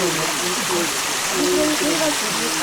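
A mountain stream rushing down a valley, a loud continuous splashing flow with a voice speaking over it.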